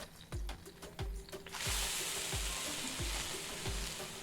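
Onions are tossed into a hot pan in the cooking game Venba, and a loud, steady sizzle bursts in partway through, over a regular series of soft, low thumps that repeat at an even pace from start to finish.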